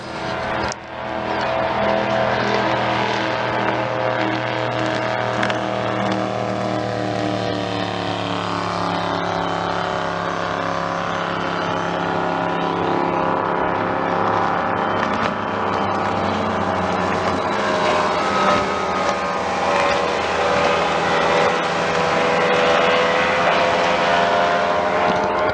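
Racing boats at a Sunday boat race pass neck and neck, a loud, sustained engine roar with layered droning tones that swells and holds for the whole stretch without fading.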